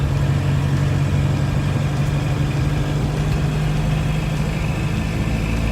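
Diesel engine of an MK1 VW Rabbit droning steadily while driving around a neighborhood, a loud continuous low rumble with no pauses and no talking.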